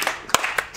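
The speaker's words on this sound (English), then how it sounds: "You just got to slow clap." A few slow, deliberate hand claps, two of them distinct and spaced apart, heard in a live podcast studio setting.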